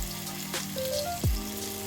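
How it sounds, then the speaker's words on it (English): Vegetables and leaves frying in a pot of oil for a Jamaican-style chicken and vegetable dinner, a steady close sizzle with a brief louder clatter midway. "We don't want to overcrowd the pot because you want them to fry thoroughly."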